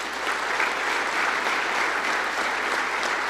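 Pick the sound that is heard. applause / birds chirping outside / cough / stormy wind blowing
applause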